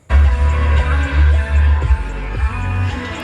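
Loud music with heavy, pumping bass thumps from the stereo inside a 2010 Jeep Wrangler Unlimited Mountain Edition, the low end booming steadily throughout with vocals and instruments layered above.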